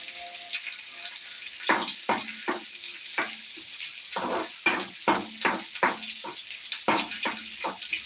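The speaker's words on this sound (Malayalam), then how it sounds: "പരിപ്പറയ്ക്കാണ് നമ്മൾ കടുക് വറക്കുന്നത്" Mustard seeds fry in hot oil for Kerala parippu (dal) curry, a steady sizzle broken by a run of sharp, close crackling pops and spatters that arrive in irregular bursts.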